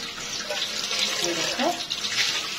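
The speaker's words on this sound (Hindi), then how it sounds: "मुझे पता है पानी का बहुत शोर आएगा" Water runs steadily from a kitchen tap during washing, a constant hissing splash close by with faint clinks mixed in.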